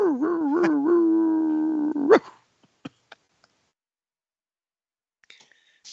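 A dog howls in a long, wavering tone for about two seconds in a woodturning workshop, its pitch rising and bending at the end, followed by a few sharp clicks and quiet.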